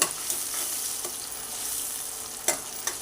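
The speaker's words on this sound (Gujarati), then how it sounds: "એને મિક્સ કરી દેવાનું સરખી રીતે હલાવી દેવાનું છે" Bottle gourd olo mixture with tomatoes and salt sautéing in a pan, a steady soft sizzle of oil with a few light scrapes of a spoon stirring, close and continuous.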